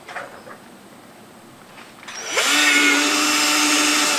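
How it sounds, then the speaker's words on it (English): A power drill bores a hole, starting after a quiet stretch of faint handling noise and then whirring loudly and steadily at close range until the end, with no voices. "Drill a hole."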